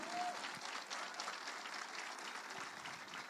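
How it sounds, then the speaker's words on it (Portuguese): A church audience claps in a steady, fairly faint wash of applause that carries on without a break, with a few voices cheering underneath. "Aplauda o Sandrinho"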